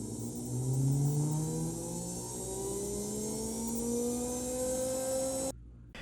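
The small electric motor of an Athearn F7A model locomotive whirs continuously, its pitch rising and shifting as it speeds up, a close mechanical whine that cuts off abruptly near the end.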